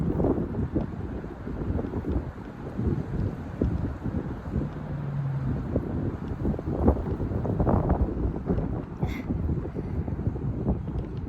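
Steady wind blows across the microphone outdoors in uneven gusts, with a low rumble and breathy roar that rises and falls throughout, and no voice is heard.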